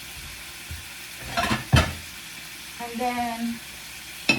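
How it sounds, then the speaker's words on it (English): Chicken pieces for adobo frying in a pan make a short sizzle and stir, with clattering bursts and a brief tonal note nearby, while a voice speaks briefly. "We're gonna fry that one first."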